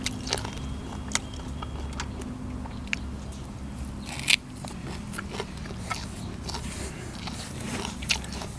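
Crisp crunching bites and chewing of spicy Thai-style mixed rice noodles with chicken feet, close up, with sharp crackly snaps recurring irregularly over a steady low hum.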